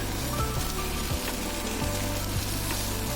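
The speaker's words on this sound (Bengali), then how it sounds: "এখন মুগের ডালটা ভুজি করছে তো চলুন দেখায় মুগের ডালটা প্রায় ভাজা হয়ে এসেছে" Mung dal dry-roasting in a pan, a steady close sizzle and fine crackle with soft periodic thuds of stirring, no voices.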